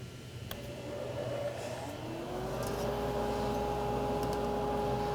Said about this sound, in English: So the first thing I'm going to do is I'm going to turn on the blower.